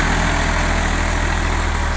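A tractor engine idles loudly and steadily close by, with a low, even throb and no other sounds, while the tractor stands unloaded between ploughing runs in a field.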